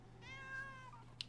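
A single drawn-out cat meow, clear and close, rising then falling over about a second against a low steady hum, followed by a brief click.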